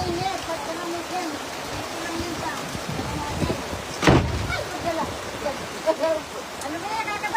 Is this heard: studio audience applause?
no